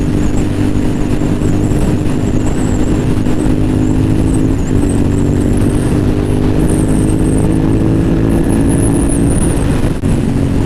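A motorcycle ridden out on the road after a Bronco game: a loud, constant engine drone with a steady low hum and wind rush, close up and uninterrupted.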